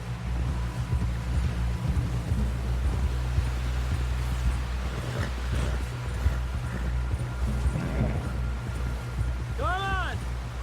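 Horse hooves gallop in Red Dead Redemption 2, a fast, continuous drumming of hoofbeats close by over wind and rumbling ambience, with a brief voice-like call near the end.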